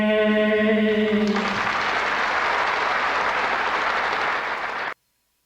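An audience applauds at a virtual magic show, a burst of clapping that swells after a sustained musical note fades, continuing steadily for several seconds before cutting off abruptly.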